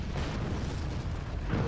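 Bounce bombs in the game Forts launching and bursting into a continuous low rumble of explosions, deep booms rolling together with a heavier thump near the end.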